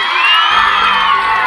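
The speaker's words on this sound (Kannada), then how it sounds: "ಪ್ರದೀಪ್ ಈಶ್ವರ್ ಮಾತಿಗೆ ಶಿಳ್ಳೆ ಚಪ್ಪಾಳೆ ಹಾಕಿದ ಸ್ಟೂಡೆಂಟ್" Students at a government school's centenary celebration in Mancheanahalli, Chikkaballapur, whistling and cheering loudly for MLA Pradeep Eshwar's speech, with a sustained wall of crowd noise and shrill whistles.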